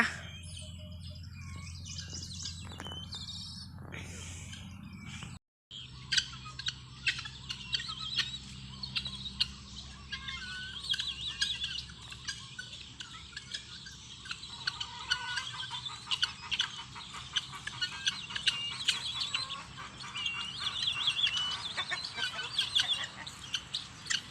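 Free-range guinea fowl on a farm in Sakon Nakhon, Thailand, call in the rainy season with a continuous chorus of harsh, rhythmic chirps and clucks. The calls run throughout, some close and loud, others farther off, with no talking.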